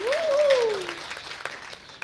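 Audience at a Christmas talent showcase in an art center applauds after a song performance, a brief burst of clapping with a voice speaking over it at first before the clapping thins out.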